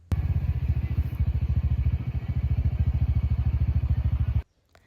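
A motorcycle ridden through a forest chugs steadily at close range with a fast, even pulsing rhythm, then cuts off abruptly near the end.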